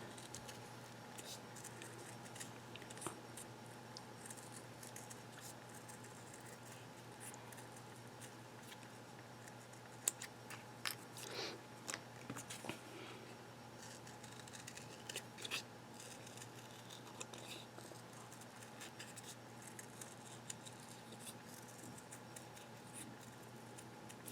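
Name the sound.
scissors cutting out paper shapes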